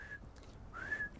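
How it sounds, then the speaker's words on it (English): A person whistles two notes: a short one, a brief pause, then a longer tone that rises and holds. The whistling is clear and close against a quiet background, with no talking. "Frank whistled."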